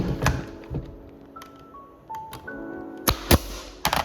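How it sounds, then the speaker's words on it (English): Nail gun driving nails into a clamped wooden box, heard as a few sharp, close thunks, the loudest pair near the end, with quiet gaps and no talking. "I'm gonna shoot a nail here now."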